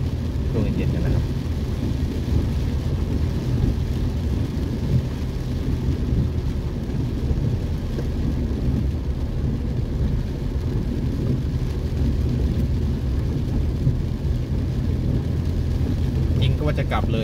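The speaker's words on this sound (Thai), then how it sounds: "บรรยากาศเย็นๆเรามาดูฝนตกช่วงเย็นๆกันนะครับ" Steady evening rain pours down with a low rumble of thunder rolling beneath it, a continuous wash of noise that keeps up without a break, by a road in Thailand.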